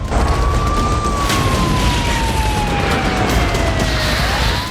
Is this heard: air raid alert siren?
yes